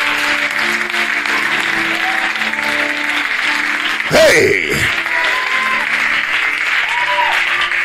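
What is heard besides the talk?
congregation clapping hands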